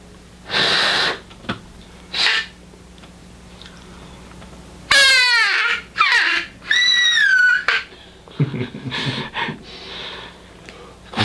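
A hunter blows a mouth call built to mimic a crow and a wounded rabbit together, giving loud, harsh, wavering squeals and raspy bursts in several separate blasts close to the microphone, with quiet gaps between them.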